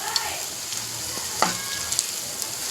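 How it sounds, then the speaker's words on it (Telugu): Urad dal punugulu fritters bubble in hot oil, a steady close frying hiss dotted with small pops and crackles, and one brief louder splutter midway, with no voices. "బాగా అయిపోయిన ఆయిల్లో పునుకులు వేసుకుంటున్నాం"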